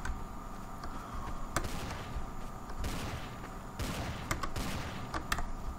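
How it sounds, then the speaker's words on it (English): Scattered gunshots in a Garry's Mod Trouble in Terrorist Town round, a few sharp cracks spaced irregularly over a steady background hum, moderately loud at mid distance, with no talking. "These people are shooting"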